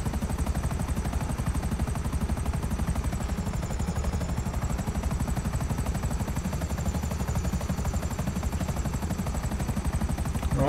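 Helicopter in the GTA 5 video game, a loud continuous rotor thump and engine whine holding steady throughout, close and alone.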